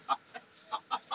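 A rooster clucks in short, sharp bursts, five quick calls nearby in an uneven rhythm over a quiet background.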